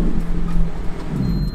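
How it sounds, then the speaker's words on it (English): A supercharged Lotus Exige engine starts and runs at a steady, low rumbling idle, loud and close, with no talking. "go on, start the engine. Yeah. Get it idling."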